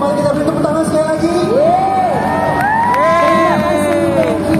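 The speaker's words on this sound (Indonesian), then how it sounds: "mari kita beri tepuk tangan sekali lagi" Audience at a corporate kick-off session with a football coach claps and cheers, with rising whoops and shouts over continuous applause at moderate volume throughout.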